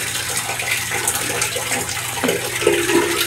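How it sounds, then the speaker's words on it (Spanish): Water gushes steadily into a bucket for a bucket shower at an outdoor washing spot in a Cuban village, a constant loud rushing with a few knocks near the end, no voices. "Y así se llena el cubo de agua."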